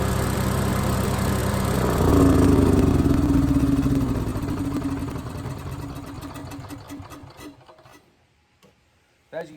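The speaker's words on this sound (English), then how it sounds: "the O&N Microlite 4000 generator runs great now" An Onan Microlite 4000 portable generator hums loud and steady, then winds down and stops, fading to near silence with a few faint clicks at the end.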